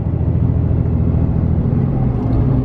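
A new Cummins diesel pickup truck pulling away on light throttle, a loud, close, steady low rumble and drone throughout with no talk.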